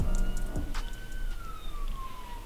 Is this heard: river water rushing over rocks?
no